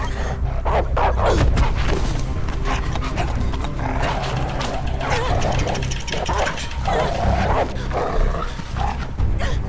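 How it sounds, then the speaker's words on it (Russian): A dog barks and snarls while fighting the player character in the video game Beyond: Two Souls, with scuffling game sounds running throughout and someone talking over it. "Жесть, с собакой дерусь."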